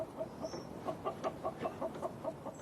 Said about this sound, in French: Nous avons 4 poules et un coq.